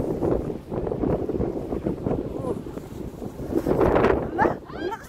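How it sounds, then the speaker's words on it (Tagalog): Strong wind buffets the microphone in a continuous low roar around Marina Bay Sands in Singapore, rising and falling in gusts while people talk nearby. "Ala, ang lakas naman ng hangin"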